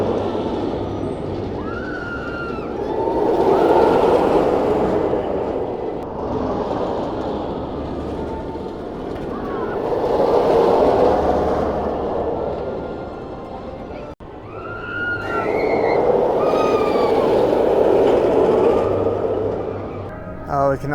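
Riddler's Revenge, a stand-up roller coaster at Six Flags Magic Mountain, roars past on a test run in repeated swelling rumbles with rattling rail noise, loud then fading, with people talking nearby.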